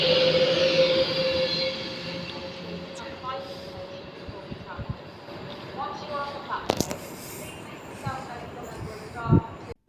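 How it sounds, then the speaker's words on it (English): A train rolls in toward a station platform with a steady low rumble and rail noise, while a public-address voice speaks over it and a few sharp clanks ring out near the end. "Train is on the approach."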